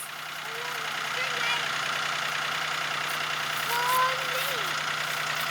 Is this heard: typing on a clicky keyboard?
no